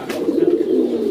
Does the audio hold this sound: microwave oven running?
no